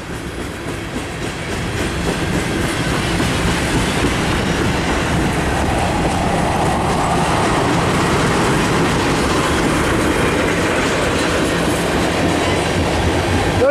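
A freight train with old tank cars rolls past close by, producing a loud, continuous rumble with rhythmic clickety-clack of the wheels on the rails and faint squeals.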